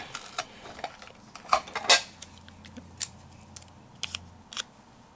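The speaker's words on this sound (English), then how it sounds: "Put a little tape." Tape being handled and applied during a paper-crafting session with stamps and dies: soft crinkles and taps, a sharp brief rip near the middle, then scattered light clicks and rustles close by.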